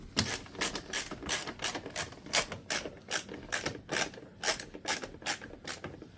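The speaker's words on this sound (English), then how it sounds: "we're going to take our ratchet H6 and a 30mm to counter hold" Ratchet with an H6 bit, backed by a 30mm counter-hold wrench, tightens an oil catch can on an Alfa Romeo Giulia Quadrifoglio: a steady run of close, sharp clicking bursts, about two or three a second, with no talk.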